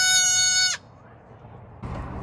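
A goat bleats in a long, strained, tonal cry during a goat birth, loud and close, then breaks off into quiet background before rustling noise returns.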